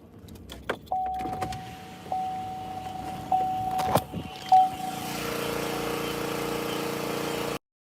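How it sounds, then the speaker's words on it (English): Electric truck windows whir down in short steady bursts, followed by a truck cranking and its engine settling into a steady mid-pitched idle heard from inside the cab, with a few clicks and thumps between. "I'm gonna roll the windows down when I crank the truck up so you can hear it."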